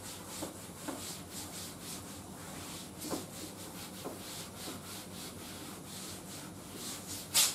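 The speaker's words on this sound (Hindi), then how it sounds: "इसको रब कर देता हूं।" Steady rubbing on a classroom board as it is wiped clean, continuous scratchy strokes repeating at a regular rhythm, close and moderately loud, with no talking.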